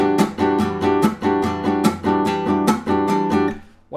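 Gypsy jazz guitar rhythm played alone in steady eighth notes, with bright ringing strums alternating with short muted chops on beats two and four, keeping a tight, even groove.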